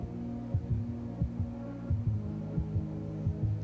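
The opening of a track plays as a low, murky droning hum, with soft thudding pulses recurring in a slow, irregular, heartbeat-like rhythm, no voices.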